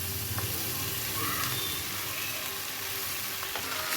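Sago kichdi sizzles and fries in a pan, a steady close crackling hiss with faint stirring scrapes, no voices.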